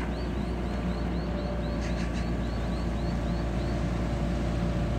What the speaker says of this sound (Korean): 얀마 엔진이다 보니까 엔진 소리가 굉장히 좋습니다